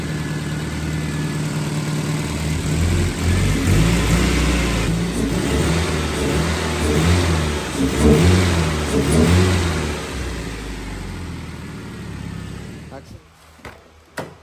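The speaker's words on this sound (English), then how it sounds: "Let's give her a little rev or two." A restored Nissan KA24 engine revs repeatedly over about thirteen seconds, loud and close with a steady rumble between blips, before cutting off abruptly near the end.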